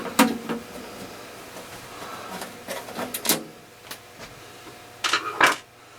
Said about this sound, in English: normally you would take out 4 screws, but there's only 2 in the top. And we'll go ahead and remove those.